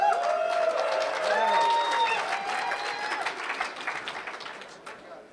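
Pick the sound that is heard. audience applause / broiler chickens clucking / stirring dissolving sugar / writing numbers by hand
audience applause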